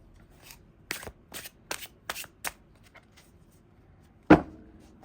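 Aquarian Tarot cards being shuffled by hand in a quiet room, a run of six or seven quick riffling bursts followed by a single sharp, louder riffle near the end.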